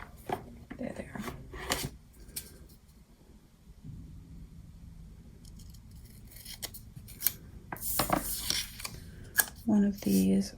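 Scissors snip through paper for a planner page in several short, close cuts, mixed with rustling and handling noises and a brief spoken moment.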